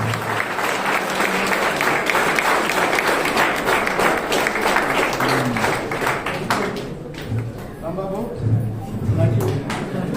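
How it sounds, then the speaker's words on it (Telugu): An audience at a birthday celebration for Nara Lokesh claps loudly in a sustained, dense round of applause that thins out after several seconds, with voices talking over the fading claps. "క్లాప్స్ కొడుతున్నాం అందరూ గట్టిగా ఒకసారి."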